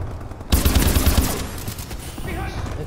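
A rapid burst of automatic fire from the OHM in Call of Duty: Advanced Warfare during a Havoc team deathmatch, sustained and loud for a couple of seconds and then easing into a rattling tail.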